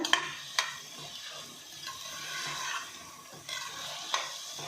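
Tomatoes simmering in a pan for tomato bath, with a soft continuous sizzle and bubbling under periodic close scrapes and clinks of a stirring spoon against the pan, no talking.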